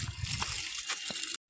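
Water being poured over a freshly cast concrete slab at a school building site to cure it, a brief rushing splash and trickle heard up close, ending abruptly.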